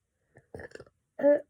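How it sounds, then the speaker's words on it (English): A short, close burp comes out at the end, after a few faint mouth and throat noises. "that was a burp, I am sorry."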